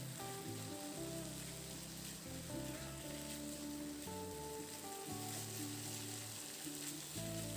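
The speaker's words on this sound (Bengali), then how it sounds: "এবার কয়েক মিনিট সময় ধরে খুব ভালো করে মশলার সঙ্গে কাঁকরোলটাকে নাড়াচাড়া করে বেশ করে একটু কষিয়ে নেব।" Teasel gourd with spices and coconut paste sizzles and fries steadily in a pan while being stirred, a continuous close hiss with music playing alongside.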